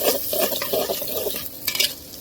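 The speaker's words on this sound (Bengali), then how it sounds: "একটু ভেজে নেব" Onions with a spoon of salt fry in oil in a cooking pot for beef curry, a soft crackling sizzle with stirring and a few metallic clinks of utensils near the end.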